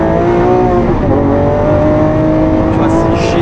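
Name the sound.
Lamborghini Aventador Ultimae V12 accelerating with exhaust pops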